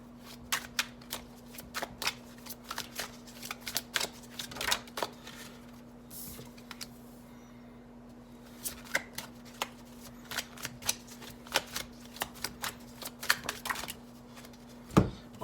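Bianco Nero tarot deck being shuffled, a steady run of crisp card riffles and flicks at close range with a faint low hum underneath and no talk.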